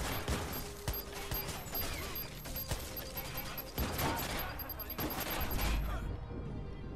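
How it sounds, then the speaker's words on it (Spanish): Gunfire from the Watch Dogs video game crackles in dense, overlapping bursts throughout, with shooting and mechanical clatter under frantic voices talking over the action. "¿Pero quién me está disparando?"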